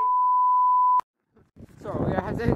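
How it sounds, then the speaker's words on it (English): A steady, pure censor beep lasting about a second cuts off abruptly, followed by a brief pause and then someone talking. "Like beep beep beep beep."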